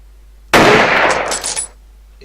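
Sudden burst of automatic gunfire from the first-person shooter FPS Creator Reloaded, a dense, loud rattle lasting about a second before cutting off into near silence.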